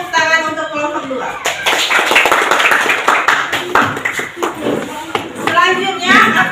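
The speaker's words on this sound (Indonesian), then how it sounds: "beri tepuk tangan untuk kelompok 2." A classroom of students clapping for a presenting group during a university teacher-training lesson, with dense, close applause swelling in the middle and easing off, with voices heard at the start and end.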